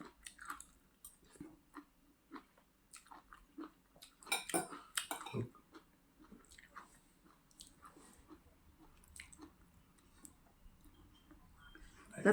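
Rice eaten with stir-fried mushrooms, chopped fermented fish and plenty of vegetables: soft close-up chewing and scattered clinks of cutlery on dishes, with a louder burst of clattering midway and faint speech in the background.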